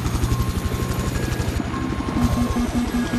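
A helicopter in the Battlefield 4 video game on the Paracel Storm map thumps with a fast, even rotor beat under a loud engine whine, close and continuous, with a few pulsing tones joining partway through.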